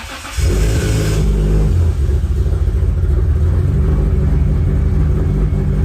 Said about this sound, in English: The car just started by itself.